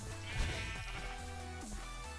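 A sheep bleats in a video game, a single wavering bleat rising over a steady layer of game music and background sound.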